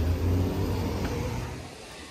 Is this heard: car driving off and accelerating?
yes